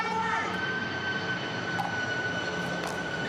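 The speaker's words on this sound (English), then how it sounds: "Tons of planes flying over center court." Jet airplanes passing over a tennis center court near the Orlando airport during a national championship singles match, a continuous loud engine roar with a steady whine, with faint crowd and court sounds beneath.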